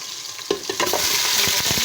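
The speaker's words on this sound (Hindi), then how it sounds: "1 चमचा ज़ीरा है चाय वाला और लहसुन अदरक थोड़ा फ्राई करेंगे।" Cumin seeds with garlic and ginger frying in a pan: a sudden loud sizzle bursts in after a quiet start and keeps crackling and spitting busily, close and bright, with no voices.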